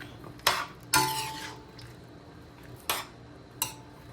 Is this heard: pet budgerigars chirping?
no